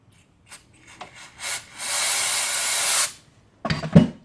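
A Q-tip dipped in carb spray scrubs inside a Craftsman snowblower carburetor. A few short rubbing strokes come first, then one long continuous scrubbing pass and a final brief burst, all close and alone.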